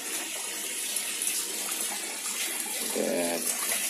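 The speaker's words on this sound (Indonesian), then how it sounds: "Ini sudah terpasang skimmer dengan penambahan debit pompa." Water from a skimmer and boosted pump pours steadily into a small minimalist koi pond, a continuous close gushing splash with a brief louder trickle toward the end, no voices.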